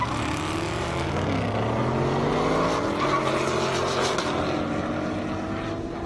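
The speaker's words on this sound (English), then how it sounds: "Robert Paxson in that Mustang, Larry Mangus in that Corvette." A Ford Mustang and a Chevrolet Corvette race at an airstrip drag event, engines roaring loudly together with rising, shifting tones as they accelerate down the strip, close and continuous.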